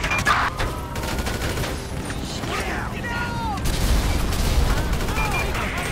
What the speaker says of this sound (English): Units reporting shots fired at an officer on Palomino Freeway and Palomino Highway.